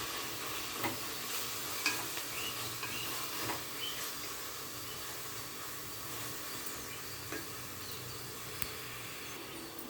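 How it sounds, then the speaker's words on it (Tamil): Ginger garlic paste sizzles in oil in a pan while cooking an Andhra-style parboiled rice pulao, a steady quiet frying hiss with occasional soft stirring scrapes. "இஞ்சி பூண்டெல்லாம் வதங்கி நல்லா ஸ்மெல்லு வருது எண்ணெய் லைட்டாக பிரிஞ்சு வருது"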